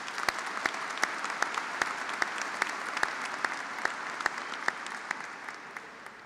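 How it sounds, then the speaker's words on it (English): Steady applause from a crowd at a high school graduation, dense clapping that holds at an even level for several seconds before easing slightly at the end. "let's again have a little round of applause for the high school graduation"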